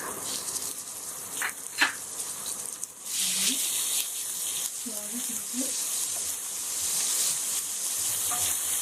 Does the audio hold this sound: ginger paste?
yes